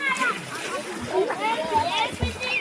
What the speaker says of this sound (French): La rivière Nzake sert en même temps de piscine, de baignoire et de lavoir.